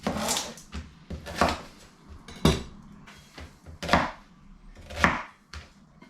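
Chopped red onion is tipped onto a pot of cut tomatoes for homemade tomato ketchup, making a series of close, hollow knocks and clattering thuds, about five distinct bursts spaced roughly a second apart, with no voices.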